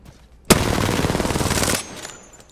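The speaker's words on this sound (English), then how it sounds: "R99, straight up recoil pattern." An R99 submachine gun fires a single unbroken full-auto burst of rapid, loud shots for about a second and a half in a video game training room, then cuts off sharply, with no voices.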